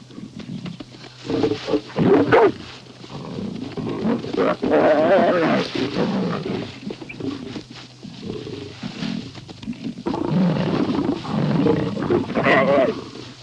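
Male lions fight over a lioness, loud snarling roars and growls rising in heavy bursts close by, with a brief lull between clashes.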